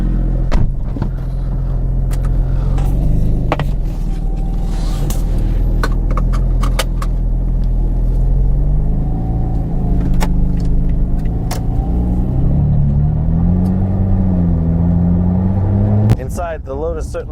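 A supercharged V6 Lotus Evora 400 sports car driving, with a steady engine drone and road rumble that rises in pitch near the end, overlaid by someone talking.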